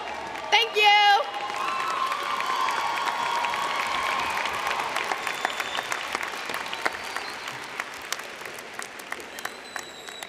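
A high school graduation audience applauds and cheers, with a brief loud whoop near the start, then sustained clapping and scattered cheers filling the hall, with crisp individual claps standing out toward the end.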